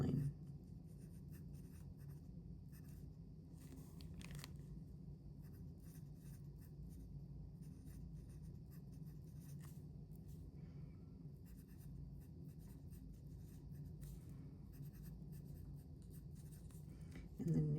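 A fine-nib fountain pen inked with Monteverde Moonstone scratches steadily across paper, soft continuous close writing strokes with faint ticks as the nib lifts and lands.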